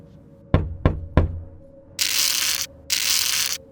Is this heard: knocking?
yes